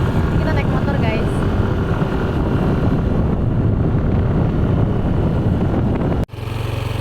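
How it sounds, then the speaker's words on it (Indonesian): Motorcycle ride recorded on a Poco F4 phone in 4K at 60 fps, steady loud engine and wind rumble throughout, ending in an abrupt cut and brief drop before the roar resumes. "Kita naik motor, guys."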